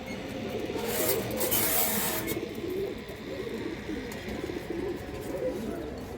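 A lively female pigeon with purple feet coos at close range, low throaty calls rolling on continuously over a steady hiss, with no voices.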